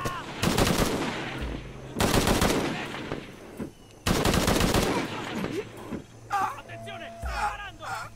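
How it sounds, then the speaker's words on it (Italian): Gunfire in Shadow of the Tomb Raider, heard as loud, dense automatic bursts in three long volleys separated by short gaps, with game voices and other effects between them. "Attenzione, sta sparando!"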